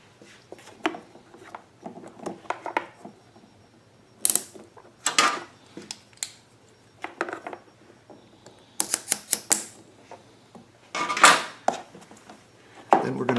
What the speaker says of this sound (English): And then we'll put one of our nylon clamps on that.